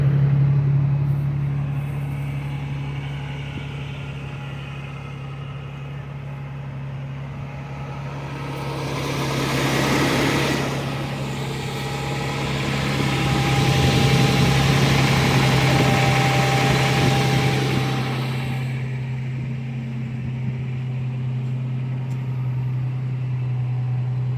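A second-generation Toyota Tacoma pickup idles after a cold start with a MagnaFlow Overland series exhaust, giving a steady low drone at high cold-idle revs. A broadband whoosh swells midway, no voices.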